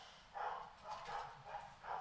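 Dogs barking outdoors at a distance, a few muffled, rhythmic barks repeating over two seconds, faint and with no talk over them.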